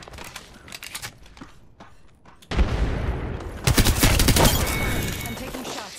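Gunfire in a squad-based online shooter game comes as dense bursts of automatic fire. It builds into loud, sustained volleys over the last few seconds, with lighter shots and footsteps before that.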